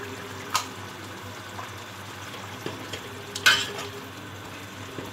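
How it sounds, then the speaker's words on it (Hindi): Chicken cooks in its own released water in a pot for spicy biryani, giving a soft, faint simmering bubble with a few small clinks and stirring taps, quiet and close, with no talking. "ये देखें चिकन ने जो है पानी छोड़ दिया है, अच्छी तरह से पक रहा है"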